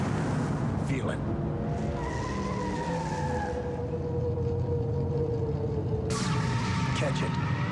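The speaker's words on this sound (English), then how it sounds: "The Miller Genuine Draft Rusty Wallace stock car." A Miller Genuine Draft stock race car roars loudly and steadily, with tires skidding and squealing in bursts near the start and again at the end, under a faint voice.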